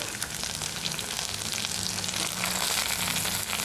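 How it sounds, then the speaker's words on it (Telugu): Onions and drumstick pieces fry in a pan, giving a steady, dense sizzle with soft crackles that continues without a break and slightly swells toward the end, with no voices. "ఉల్లిపాయలు అలాగే ములక్కాడలు కాస్త వేగినాయి"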